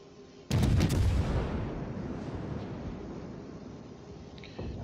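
A heavy naval gun blast from a World of Warships battle erupts suddenly and loud, followed by a long decaying rumble, with a fainter second shot near the end.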